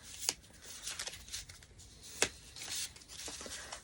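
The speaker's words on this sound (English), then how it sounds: "Should we pull like 3 cards and see what we get? I'm not very good at shuffling," Quiet, close riffling and soft slapping of tarot cards being shuffled by hand, with a few sharper snaps among the faint papery rustle.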